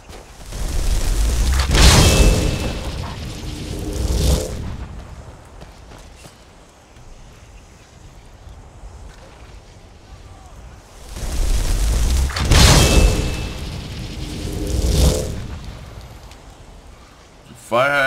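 Fire atronachs battling each other with fire in Skyrim, two loud surges of booming, crackling blasts separated by a quieter stretch, heard close with someone talking over parts of it.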